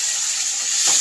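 Onion and tomato sautéing in a pan give a steady, close, bright sizzle that holds evenly throughout.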